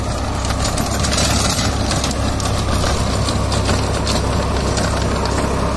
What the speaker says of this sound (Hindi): सबसे मेन बात आप ट्रैक्टर की चाल देख सकते हैं कितना अंडर लोड और कितने ज़्यादा चाल हो रखी है ट्रैक्टर की